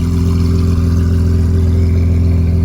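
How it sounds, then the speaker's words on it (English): A Lamborghini Aventador engine running close by, a loud, steady, low droning hum with a strong even tone and no clear rise or fall. "So we're gonna get ready to take the Aventador out."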